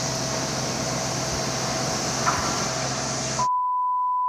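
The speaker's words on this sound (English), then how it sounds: "what you're hearing is not construction, it is bugs" Dense, steady insect drone from cicadas outside a window in Tennessee, a loud continuous buzz filling the clip before cutting off abruptly near the end, leaving only a thin tone.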